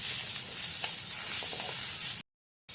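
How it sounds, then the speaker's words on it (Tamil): Chopped onion and small pieces of coconut sauté in a pan, giving a faint, steady sizzle and frying crackle with a few light stirring clinks before a brief cut to silence. "வெங்காயம் கொஞ்சம் நேரம் வதங்கட்டும்"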